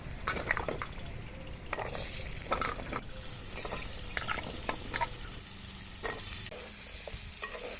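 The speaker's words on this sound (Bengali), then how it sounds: "তেলের ভিতরে একটু হলুদ দিয়ে আলু ভেজে নেব" Potatoes frying in hot oil with turmeric in a clay kadai: a continuous crackling sizzle with repeated scraping stirs and clattering knocks throughout.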